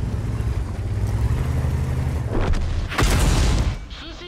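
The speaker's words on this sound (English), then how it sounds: "Artillery's still trying to get me?" A heavy artillery shell explosion in World of Tanks lands with a deep, loud boom and a broad rumbling blast, set over continuous low engine drone and game noise, with no talking.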